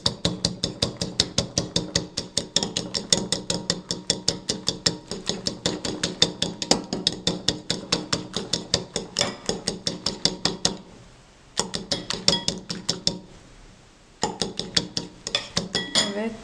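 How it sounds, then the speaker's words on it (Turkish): A whisk beats a mayonnaise hair mask in a bowl with a fast, steady train of bright metallic clinks against the bowl, pausing briefly twice near the end, and nobody speaks. "Döküyoruz ve tekrardan çırpmaya devam ediyoruz."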